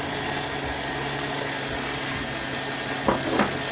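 A stand mixer kneads bread dough for homemade burger buns as water and yeast go in, humming with a steady motor whine and a few soft knocks near the end.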